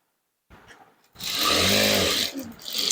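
Sewing machine running a long tacking stitch on a blouse, a steady close whirring burst of about a second and a half after a few brief starts, then a short pause before it resumes.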